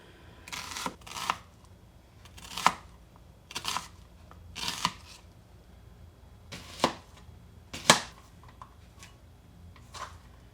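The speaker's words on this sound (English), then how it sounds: "I'm using yellow onions, and you want to thinly slice them." Yellow onions being thinly sliced with a knife, heard as a series of about nine crisp, separate cuts at an uneven pace, close and fairly quiet, with no talking.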